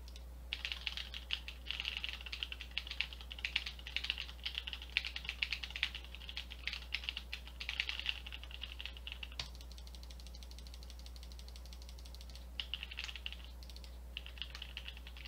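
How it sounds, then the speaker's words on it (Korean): Computer keyboard keys and mouse buttons are pressed, picked up by the microphone of a Turtle Beach Recon Chat headset: a rapid, faint patter of clicks in bursts, with a pause near the middle, over a low steady hum. "키보드와 마우스 버튼을 눌러보도록 하겠습니다."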